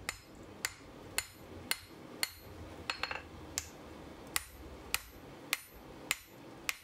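Hammer blows on hot steel while a hardy hot-cut tool is forged at the anvil: sharp, ringing strikes land at a steady pace of about one every half second, with a few quicker double taps and faint shop noise between them.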